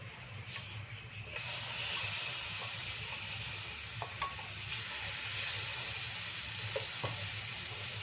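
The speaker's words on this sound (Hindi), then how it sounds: "यहाँ पे देखिए हमने चूल्हा जला के एक पैन रखा है और जो हमने बोटियों को मसाला लगा कर रखा हुआ है ये हम इसमें डालेंगे।" Spice-marinated meat pieces hiss and sizzle in a hot pan on a lit stove, a continuous close frying crackle that swells louder after a second, with occasional small pops.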